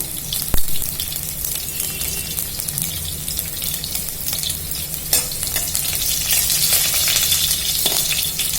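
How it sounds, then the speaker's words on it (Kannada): Garlic frying in hot oil for rasam, after mustard seeds have gone in, sizzles loudly and steadily up close, with stirring scrapes and a sharp clink near the start. "ಬೆಳ್ಳುಳ್ಳಿ ಹಾಕ್ತೀನಿ ನಾನು ಫಸ್ಟು"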